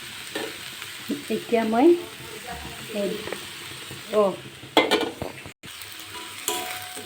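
Spices and a green chili sizzle and fry in a pan while being stirred, with irregular scraping strokes over a steady sizzle and a person speaking intermittently.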